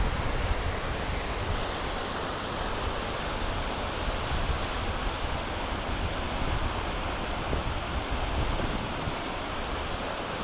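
Water of the Lågen river in Gudbrandsdal, Norway, rushes around someone standing midstream with a bike: a steady, loud, close wash of broadband noise with no pauses and some wind buffeting the microphone.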